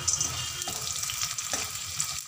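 Chopped onion sautéing in a pan for potato poha, a steady close sizzle running throughout with a few soft stirring scrapes, no talk.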